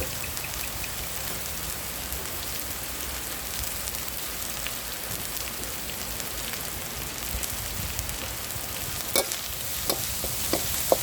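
Red curry paste stir-frying in a pan for spicy wild boar, a steady sizzle with scraping stirs and a few sharp clinks of a utensil against the pan near the end.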